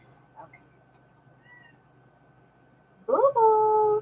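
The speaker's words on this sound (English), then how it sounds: "My little cat." A pet cat gives a loud, close meow near the end, drawn out and wavering, after a quiet stretch with only faint background sounds.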